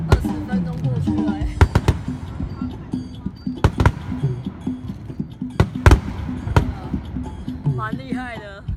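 A long fireworks show at the Loy Krathong festival in Sukhothai sends sharp, irregular bangs and booms at a distance, with people chatting nearby throughout.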